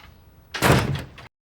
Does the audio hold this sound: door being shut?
yes